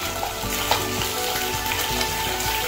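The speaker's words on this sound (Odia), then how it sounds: "ଆଉ ମାଛ ଭଜା କରୁଛୁ" Fish frying in a pan, a steady crackling sizzle with light stirring scrapes, close and moderately quiet, no talking.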